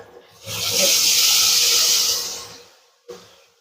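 Water is poured into a pan holding hilsa fish, oil and whole green chilies for steamed hilsa. It makes one close, loud rushing pour of about two seconds that tapers off and is followed by a brief knock.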